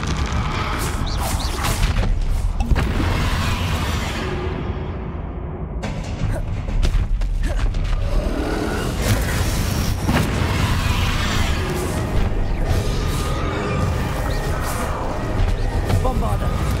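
Spell blasts fired in combat in Hogwarts Legacy, a dense run of loud crashing booms and impacts that overlap one another, with shouted incantations and battle noise mixed in.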